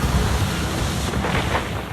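A massive slab of cliff rock collapses and crashes into the sea at a Zante beach, a loud, broad thunder-like roar and rumble that swells and churns steadily throughout, with no voices.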